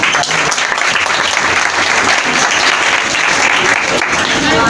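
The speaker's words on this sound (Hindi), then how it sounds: "अपने लिए भी ताली बजाएं।" A seated audience at an open-air Hindi-language church service claps steadily and loudly, a dense continuous patter of many hands with a faint murmur beneath.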